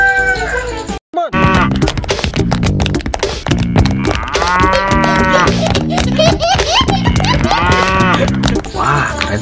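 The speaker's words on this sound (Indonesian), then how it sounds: "di sini ada sapi" A toy or animated cow mooing loudly and repeatedly over busy cartoon-style music and effects, the drawn-out tonal calls rising and falling close up.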